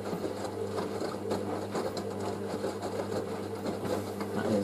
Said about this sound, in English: That is rinse 2 now.